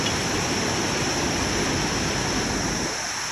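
The Marsyangdi river rushes along the Tilicho trek, a steady, dense roar of flowing water with no break, heard close and loud.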